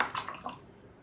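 Paintbrush swished through a jar of clean water beside a watercolor palette, a brief close splashing swirl that fades quickly into quiet.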